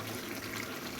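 Broth poured into a pan of meat and vegetable curry gives a steady, close liquid gush that runs without a break for about a second.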